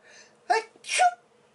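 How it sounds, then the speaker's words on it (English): A single close sneeze: a brief sharp inhale-like build followed by a loud, breathy burst. "oh hang on, I'm going to sneeze."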